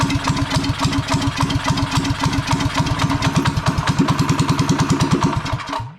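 A small drift trike engine idles with the choke on while warming up, a loud, close, steady chugging putter with rapid regular firing pulses that cuts out at the end.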